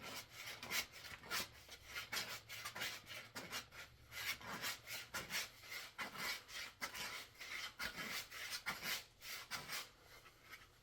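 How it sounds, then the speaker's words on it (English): Fine 180 grit sandpaper is rolled over the edge of a wooden flute from a kit, a soft, rhythmic rasping of repeated strokes, close but quiet, with no speech. "I'm going to take the sandpaper and I'm going to roll over the edge like this with it"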